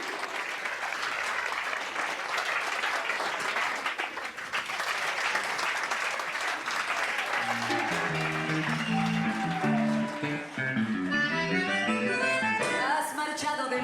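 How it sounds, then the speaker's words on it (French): Audience applause in a bar with accordion music, loud, dense clapping throughout, joined halfway by an accordion-led band playing under the continuing clapping. "Applaudissez bien fort, oui."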